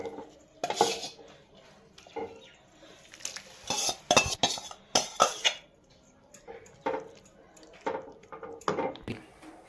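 Greens from chickpea plants go into a cooking pot with repeated metallic clanks and scraping of a spoon against the pot, irregular bursts of clatter close by with no talk.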